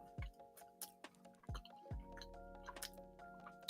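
Soft, close chewing with wet, squishy mouth noises and small clicks, faint and intermittent under a low steady background hum, with no talking.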